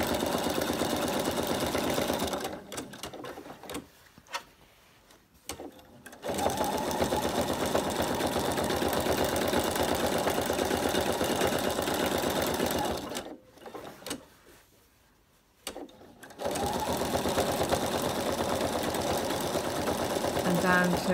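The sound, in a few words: sewing machine doing free-machine embroidery applique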